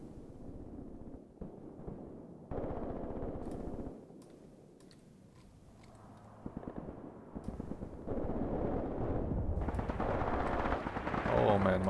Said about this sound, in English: my tanks are shooting back at the enemy at least